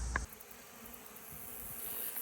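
Bees buzz around a row of six beehives on a farm, a faint, steady insect drone with a bump of noise at the start.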